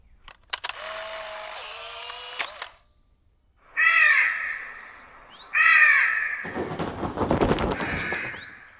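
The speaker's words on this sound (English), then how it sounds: "Fly high, Mr. Crow." A crow caws in a few loud, harsh bursts outdoors, separated by pauses, with other scattered sounds and a rustling burst near the end; no one speaks.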